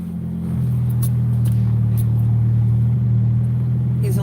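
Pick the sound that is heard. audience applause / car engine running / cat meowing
car engine running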